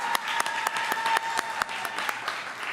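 An open mic audience claps in a small room, a sustained patter of close hand claps with a few sharper individual smacks and a faint steady tone humming underneath.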